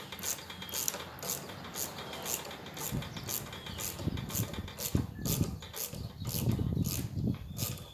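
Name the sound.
ratchet wrench turning nut on Honda water pump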